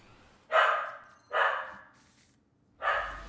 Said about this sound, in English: My dog has picked a fight with the neighbor.